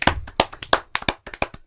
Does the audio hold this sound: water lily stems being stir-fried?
no